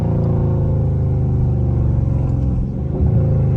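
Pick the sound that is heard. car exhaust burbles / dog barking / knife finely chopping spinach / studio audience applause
car exhaust burbles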